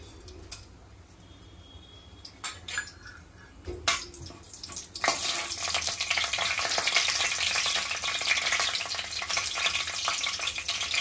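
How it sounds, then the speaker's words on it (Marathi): Tempering spices for a mutton curry crackle and sizzle in hot oil in a kadai, starting after a few scattered clinks and taps and then swelling into a loud, steady frying hiss with quick pops. "फोडणी तडतडली की कांदा घालायचा आहे।"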